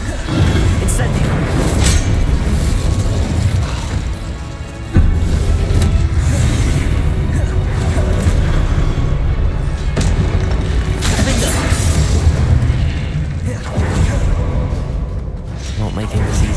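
Fiery spell blasts and crashing booms from Hogwarts Legacy combat during the first trial, a near, continuous loud roar with repeated impacts under spoken spell names.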